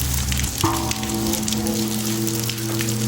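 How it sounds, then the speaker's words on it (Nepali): Rain falls steadily, a continuous wash of patter and drips heard throughout, with a low tonal hum running underneath. "पानी परिरहेछ, पानी दर्किरहेछ।"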